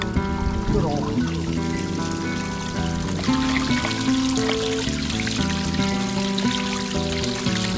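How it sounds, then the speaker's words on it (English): Water streams and trickles over a slate rock waterfall built into a pond for albino snapping turtles, a steady close splashing wash that continues throughout. "working on the waterfall"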